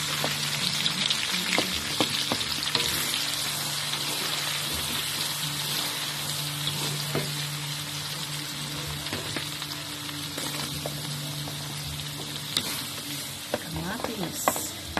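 Garlic, onion and tomato sizzle steadily in a pan while being stirred for sautéed shrimp paste, with continuous close frying hiss and occasional scraping from the utensil.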